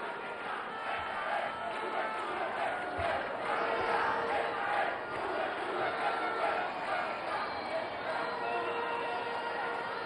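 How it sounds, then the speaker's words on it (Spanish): A large crowd at an outdoor political rally in Maracay, Aragua roars, cheers and applauds steadily throughout, dense and continuous at a distance, with no clear single voice standing out. "Pido un aplauso para ellos."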